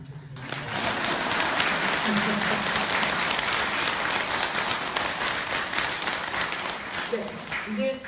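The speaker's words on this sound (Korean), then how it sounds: "박수 안 쳐주세요." An audience applauds at a Buddhist dharma talk by a monk at Seongjusa temple in Changwon, a full sustained burst of clapping lasting several seconds with voices heard at the start and end.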